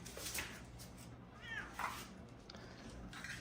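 A domestic cat meows a few times, short faint calls spaced apart over a quiet background.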